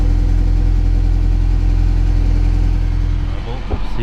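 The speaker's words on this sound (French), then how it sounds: "Écoutez la sonorité à l'échappement." A Ferrari 328 GTS idles with a steady, loud exhaust burble, a low rumble that holds evenly before a brief dip near the end.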